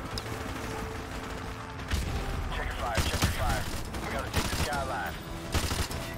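Allied gunfire in Modern Warfare Remastered, repeated bursts of automatic shots with mechanical clatter amid ongoing battle noise, moderately loud and mixed with a voice.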